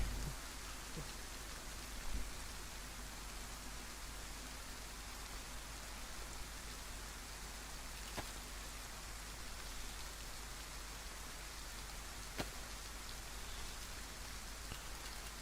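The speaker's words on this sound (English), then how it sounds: "we could just wait out the rain a little bit" Steady rain pouring in the Chernarus map of the survival game DayZ, a constant dense hiss of drops with occasional sharper patters, faint and continuous with no talking.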